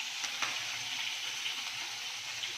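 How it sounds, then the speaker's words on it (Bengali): Two fish heads sizzle in a pan with tamarind, turmeric, chili and cumin, giving a steady, moderate frying hiss with a couple of soft clicks near the start and no talking. "এরপর আমি মাছের মাথা দুটো ছেড়ে দিচ্ছি"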